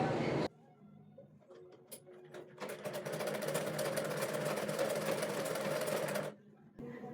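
Sewing machine stitching a ragi pillow whirs steadily and fairly loud for several seconds after a few short starts, then cuts off, with quiet room sound around it.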